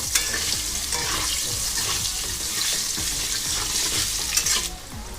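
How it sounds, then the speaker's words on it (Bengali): Potatoes sizzle loudly in a pan with hot oil, while a spoon scrapes and stirs them in a steady, repeated rhythm, close up and with no talking. "আলুগুলো হালকা এপিট ওপিট করে একটু লাল করে ভেজে নিয়েছি"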